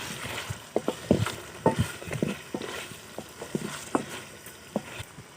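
A utensil scrapes and knocks against a pan in irregular strokes, stirring in garam masala, while chicken curry sizzles steadily underneath.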